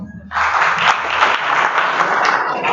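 Applause starts abruptly after a brief quiet moment and continues as a dense, even roar of many hands clapping.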